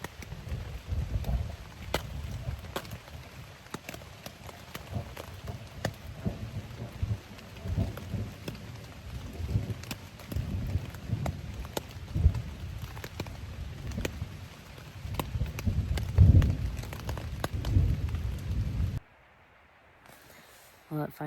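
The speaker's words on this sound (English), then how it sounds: "it finally stopped raining, so I finished dinner and cleaned up, and a few other people did show up, but it was raining" Steady rain patters on a tent on a Long Trail hiking campsite, a dense close hiss with scattered sharper drops, continuous until it cuts off near the end.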